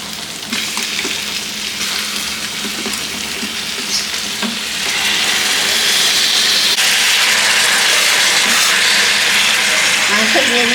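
Marinated chicken sautéing in a pressure-cooker pot, a continuous loud sizzle with occasional stirring scrapes, the hiss growing louder and steadier halfway through.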